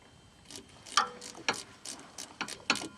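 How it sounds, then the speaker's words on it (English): Hand pump refilling rear differential fluid on a Trailblazer, producing a series of quiet mechanical clicks and clacks at an uneven rhythm of about five strokes. "We just got to pump the fluid back up in that piece."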